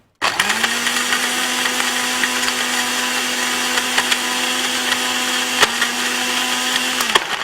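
A blender whirs loudly and steadily, mixing a shake made with Pakola full cream milk and peanut and dates. The motor spins up quickly, holds a constant high-pitched drone for about seven seconds, and shows a brief dip near the end.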